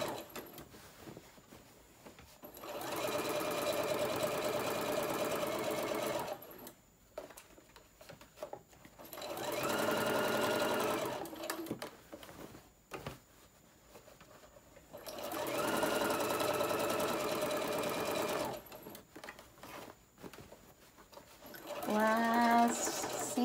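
A sewing machine stitching the seam of a lunch tote bag runs in three long bursts of fast mechanical whirring, with quiet pauses and small handling sounds between, plus a brief squeak at the end.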